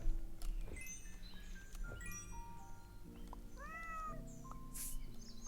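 Cat meow effects from the auto-battler game Super Auto Pets, short synthetic chirps and tonal meows scattered over a steady game music bed, fairly close and clear, with no talking.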